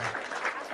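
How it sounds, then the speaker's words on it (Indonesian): A short burst of applause for a guest, many hands clapping steadily and fairly close, with no voices over it. "Kita tepuk tangan lagi Kang buat Teh Widya."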